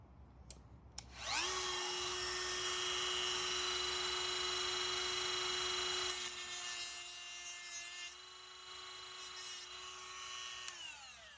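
A power tool whines up to speed and cuts a notch into a CRKT Chogan tomahawk, holding a steady high-pitched tone with scraping bursts midway before spinning down, close and alone.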